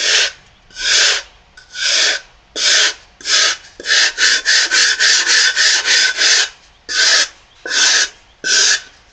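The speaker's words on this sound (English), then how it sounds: "take more deliberate strokes with the sandpaper" Sandpaper rasps by hand across a carved tooling-board piece in loud, close strokes, slow and evenly spaced at first, then a quick burst of short rapid strokes before returning to a slower rhythm.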